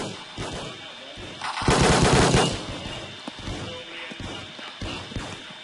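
Uzi gunfire in the Roblox Battlefield shooter game, a loud rapid burst of automatic fire in the middle, set among scattered sharper shots and clicks before and after.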